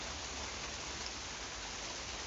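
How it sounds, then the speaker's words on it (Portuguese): Steady rain falling outdoors, a soft, even hiss of drops throughout with no voices. "E aqui, chovendo."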